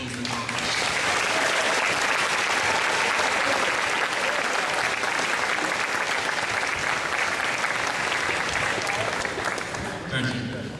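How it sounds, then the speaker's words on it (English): An audience at a 2017 FIRST Robotics district event awards ceremony applauds loudly and continuously, a full sustained roar of clapping and some crowd noise that swells in and tapers off near the end. "give yourselves a round of applause for what you've accomplished"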